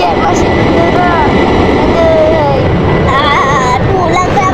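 Loud, steady jet aircraft engine roar from a Roblox video game runs throughout at an aircraft carrier, with faint game tones over it.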